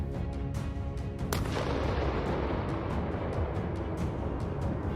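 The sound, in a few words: kamikaze drone explosion on building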